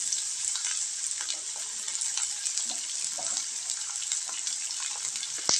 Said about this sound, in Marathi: त्या फोडी आपल्याला मस्त ह्याच्यामध्ये तेलामध्ये परतून घ्यायचे छान